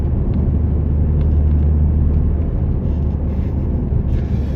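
A loud, low engine of a Mazda 323F rumbles steadily throughout, holding a deep, throaty idle with slight fluctuations, close and continuous.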